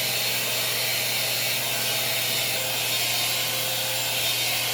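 A hair dryer blowing indoors in a bedroom, a loud, steady broadband roar with a faint hum underneath, running continuously with no talking.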